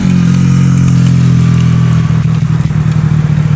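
A motorcycle engine on a road in Europe drones loud and close, steady at first, then turning rougher and more uneven as it moves.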